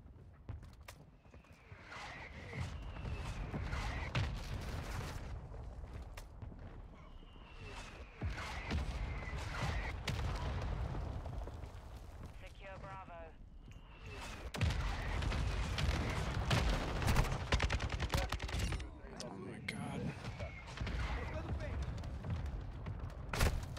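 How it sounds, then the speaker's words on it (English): In the video game Modern Warfare 2, a friendly mortar strike lands as several heavy booms and crackling blasts scattered across a battlefield, with someone talking over much of it. "Friendly mortar strike inbound."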